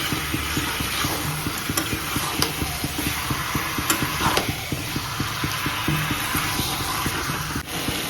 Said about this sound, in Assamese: ঢাকনখন দিয়া নাই হাই ফ্লেমত ফ্ৰাই কৰিছোঁ